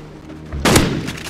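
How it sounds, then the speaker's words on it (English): A flashbang grenade goes off in a Modern Warfare multiplayer match, a single sharp, loud burst that hits suddenly and trails into a lingering ringing wash, with no voices over it. "He hit me with a flashbang."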